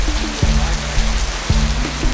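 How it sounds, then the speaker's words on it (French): Tropical rain falling in Sumatra, a dense close patter on surfaces under a low rumble, with several sharp knocks and faint tonal sounds mixed in. "En vérité, la pluie est très belle."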